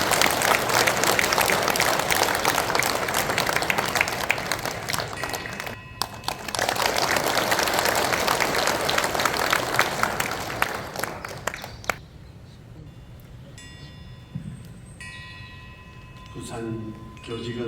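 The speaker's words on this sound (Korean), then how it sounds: "다 같이 환영의 박수 부탁드립니다." An audience at a Buddhist teachers' association anniversary dharma assembly in Busan claps loudly and steadily for about twelve seconds, briefly dipping in the middle, then the clapping gives way to a quieter room with faint talk.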